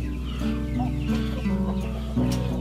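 Indio Gigante hens clucking on a free-range poultry farm, several birds making repeated close, steady clucks over a constant low background hum.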